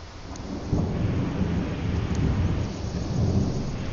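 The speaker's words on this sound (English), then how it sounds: "Trying to sleep with this thunderstorm that's creeping me out too." A thunderstorm rumbles with rolling thunder and steady rain, a dense, continuous low roar that swells in places and carries no voices.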